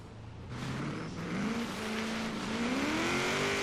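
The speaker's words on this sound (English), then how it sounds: "we're just going to have to feather the gas, because if we shift into second, it just bogs right down" A Nissan Titan truck engine bogs off-road in Forza Horizon 3, a strained low drone that rises slowly in pitch as the throttle is feathered, steady and close.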